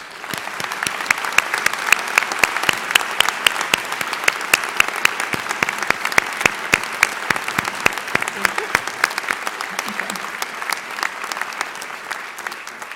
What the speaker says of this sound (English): we give our entire nominee group a round of applause for everything they've done for our campus